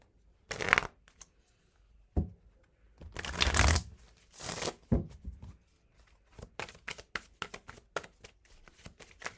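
Tarot cards shuffled by hand at close range, several bursts of riffling and sliding cards with short pauses between them, followed by quicker light flicks and taps as cards are handled.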